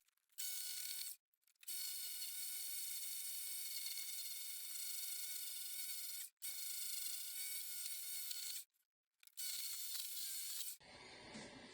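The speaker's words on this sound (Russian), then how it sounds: "Сначала срежу вот эти выступающие части" A hand tool shaves protruding parts off a wooden segmented honey barrel, giving long rasping scraping strokes separated by short pauses, close and fairly quiet with no talking.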